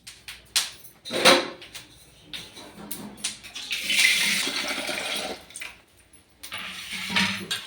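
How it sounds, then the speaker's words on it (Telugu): Chillies and tomatoes are rinsed in water in a home kitchen, with splashing and sloshing bursts, short clatters of handling, and longer stretches of running, swishing water. "కడుగుతావా మిరపకాయలు టమాటా పండ్లు?"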